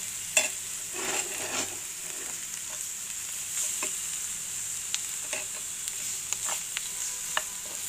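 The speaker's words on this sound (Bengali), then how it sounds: "লালচে করে ভেজে নিচ্ছি।" Bitter gourd and potato bhaji frying in a pan, giving a steady close sizzle with scattered stirring scrapes and light clinks throughout, no voices.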